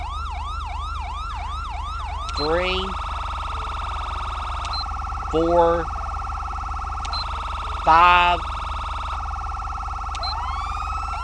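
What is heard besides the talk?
police sirens in GTA V LSPDFR mod video game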